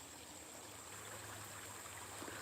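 Water trickling and flowing through a small creek pool among rocks bearing Gubbi Gubbi grinding grooves, a soft steady babble, faint and continuous without talk.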